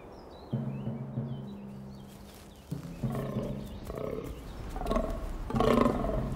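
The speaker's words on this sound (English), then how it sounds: "It's the rutting season for fallow deer." Fallow deer stags bellow during the autumn rut in misty Slovakian woodland, deep guttural groans repeating in several rough bursts, moderately near, with faint bird calls early on.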